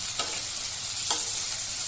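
Food frying in a pan with a continuous soft sizzle, broken by two short scraping stirs of a utensil, close by and with no voices.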